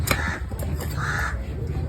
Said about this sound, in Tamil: காக்கா கத்துதல்